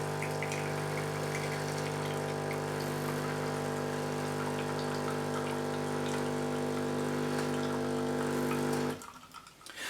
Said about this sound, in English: I find it quite good to put something in the way when it does its pre-rinse here